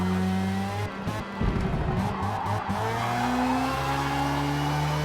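A Ginetta race car lapping a track in Forza Motorsport, steady engine drone with a brief burst of tire squeal and skidding near the start, then an even, close engine tone.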